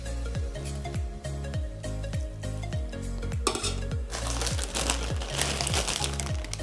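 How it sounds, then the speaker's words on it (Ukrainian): Cooked quinoa pours onto a plate in a soft, grainy rush that rises over the second half, layered over a steady rhythmic music bed. "Пересипаємо кіноа в тарілку."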